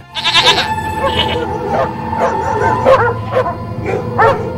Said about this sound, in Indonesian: Bersamaan dengan ini, anjing menggonggong serta beberapa hewan lainnya juga ketakutan.